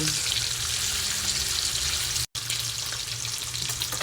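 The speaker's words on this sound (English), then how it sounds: "Bacon is getting nice and crispy." Bacon and kielbasa sausage fry in a pan with a steady, dense sizzle that runs throughout, broken by a split-second gap near the middle.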